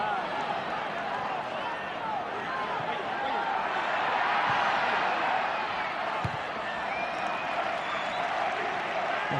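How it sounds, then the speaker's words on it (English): A football stadium crowd at a Real Zaragoza versus Espanyol match, a loud sustained roar of screaming and shouting that swells in the middle, with a commentator talking over it. "will be received with screams from the crowd"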